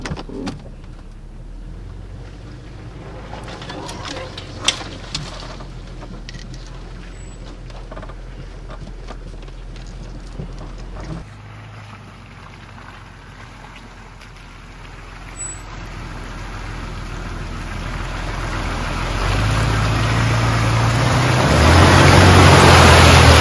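A car grinds along a muddy shortcut track from Kiketi toward Enageti in Georgia, its engine rumbling steadily nearby with scattered knocks, then swelling into a louder, straining roar near the end; no one speaks.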